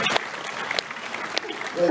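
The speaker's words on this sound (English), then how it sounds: "I think that deserves a round of applause" A London Q&A audience breaks into brief applause, bursts of clapping mixed with crowd murmur, and a voice is heard over it as it fades.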